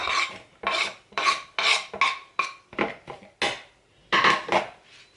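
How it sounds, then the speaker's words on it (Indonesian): Tomato and spring onion go into a bowl of salad with a series of loud, close rasping scrapes and clinks, about nine rhythmic strokes of a utensil against the dish, with no talking. "Masukin tomat sama ininya, daun bawang."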